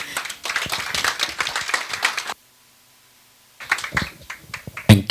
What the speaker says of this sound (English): Let's give a better round of applause for Kaisla.